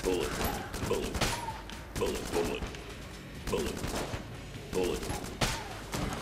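Rapid bursts of gunfire from a weapon in the video game Enter the Gungeon, repeated volleys of clattering shots in a steady rhythm, close and loud over a continuous game background.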